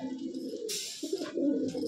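Sky Banter breed pigeons coo softly in low, throaty rolling notes at close range, with a short burst of rustling or wing flutter in the middle.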